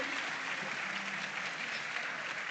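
Steady applause from a crowd at a school farm awards grand final, a dense wash of clapping that holds evenly for a couple of seconds.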